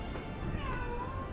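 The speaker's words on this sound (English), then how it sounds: "And that's my cat." A pet cat meows briefly nearby during a Baldur's Gate gaming stream, a short tonal call over steady background hiss and low room noise.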